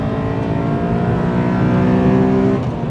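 Honda Accord Euro R engine revving hard, a loud, continuous sonorous drone with rising harmonic pitch that holds steady for about three seconds, close and alone with no talking.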